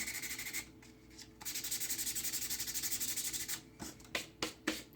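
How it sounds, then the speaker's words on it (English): Sandpaper rubbed by hand along the edges of a wooden sign to distress it, a raspy scraping in sustained strokes with brief pauses and a few short quick rubs at the end. "rub the sandpaper until some of the raw wood is showing"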